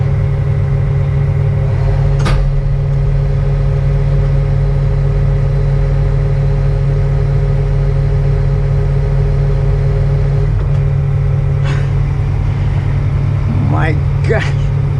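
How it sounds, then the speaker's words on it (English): A John Deere 450C excavator engine runs with a steady low hum, loud and close, while a few short voice sounds break in now and then. "This engine is so powerful."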